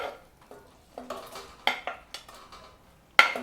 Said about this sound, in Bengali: সেই চিংড়ি মাছগুলোও দিয়ে দিচ্ছি।